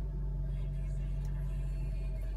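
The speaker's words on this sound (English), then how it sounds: "The car is running." A Honda car engine idles steadily after a key start, a low, even rumble that holds constant throughout with no revving.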